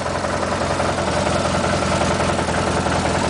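An old MTD lawn tractor engine, owned since new and never opened, runs steadily up close with a loud, even idle and a constant throbbing drone.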